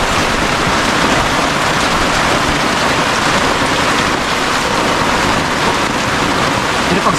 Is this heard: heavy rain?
yes